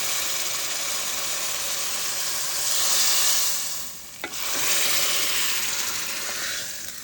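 A hot tadka is slowly lowered into a pot of kurhee curry and sets off a loud, continuous sizzle that swells, dips briefly around a single clink, then surges again.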